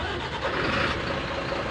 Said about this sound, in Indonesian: mesin harus kita kasih nyala dulu.